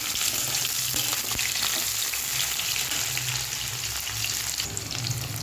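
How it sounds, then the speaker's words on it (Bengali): Onions sizzle steadily in hot oil in a pan, a constant close frying hiss with occasional stirring clicks, no voices. "এই যে পেঁয়াজটা লাল লাল করে ভেজে নিয়েছি"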